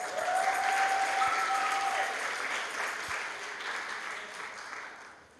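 A church congregation applauds in a steady, dense wash of clapping that fades slowly toward the end. A faint tonal whine runs through the first couple of seconds.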